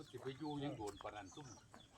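Chickens clucking close by on a rural farm, a short run of quick clucks alongside a voice.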